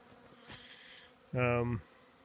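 Honeybees at a hive give a brief, close, loud buzz as one flies past, rising and fading within about half a second against a faint background hum.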